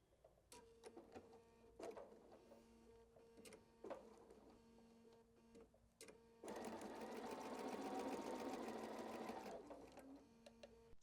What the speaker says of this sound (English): the other way is just sewing on the line, and I'll do that really quick too